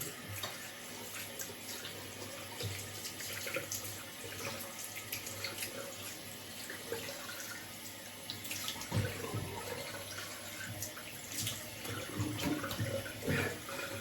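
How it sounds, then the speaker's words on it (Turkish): Tap water runs steadily into a sink while a man washes his face during a traditional holiday shave, a continuous close splashing with brief louder surges from hands cupping water. "yüzümü bir yıkıyorum"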